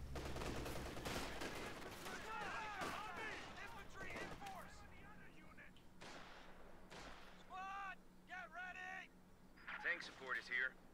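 Heavy machine gun fire in a World War II tank battle video game, bursts of loud gunfire and distant explosions mixed with in-game radio chatter, someone talking over the opening seconds.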